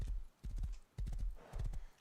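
Hooves of a horse ridden at a gallop in the survival video game Rust, a fast, loud clip-clop rhythm of repeated beat clusters with brief pauses between them, close and clear with no talking.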